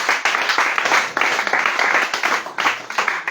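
A congregation claps and applauds at a church deliverance service, a dense, sustained burst of hand-clapping that swells and dips steadily throughout, with no one speaking over it.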